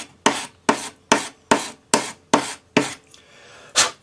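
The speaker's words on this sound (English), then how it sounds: "So now you're going to take your sanding stick and just smooth, this is 400 grade paper" A sanding stick with 400 grit paper rubs over metal while smoothing the top of a tube setting for a 2.5 mm stone, giving seven close, even rasping strokes in a steady rhythm with no talk.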